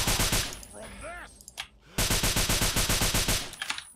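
Rapid automatic gunfire from a minigun in the video game Fallout 3, two loud sustained bursts of fast, even shots separated by a short pause with scattered impact and ricochet sounds.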